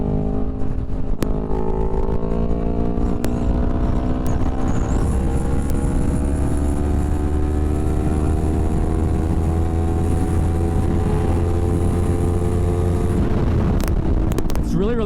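A 2021 Yamaha R3 motorcycle cruising steadily on the road, its engine drone holding a smooth, continuous hum with gradually shifting pitch, wind rushing loudly throughout, and a rider talking over it.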